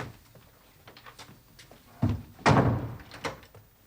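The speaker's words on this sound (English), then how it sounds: "And shut the door." An interior door pushed shut in a period drama room, a soft thunk followed by a louder wooden slam, with faint shuffling around it and no talk.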